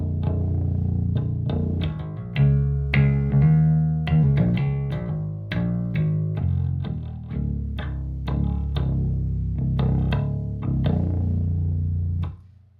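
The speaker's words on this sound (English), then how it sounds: "here's the bass clean." A Dunable Cyclops electric bass is played clean without effects, a run of plucked notes in an uneven rhythm that ring close and full, alone with no talk.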